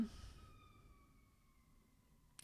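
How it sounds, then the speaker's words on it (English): A faint siren wails in the distance, a steady high tone slowly falling in pitch beneath a low background rumble. "There's like fire trucks and sirens going on in the background."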